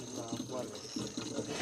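Water from a natural spring spout gushes and pours continuously at close range, with a steady splashing flow and faint voices in the background.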